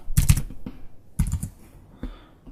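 Keys clatter on a computer keyboard in quick clusters of taps separated by short pauses, close and crisp, with a few isolated keystrokes toward the end and no speech.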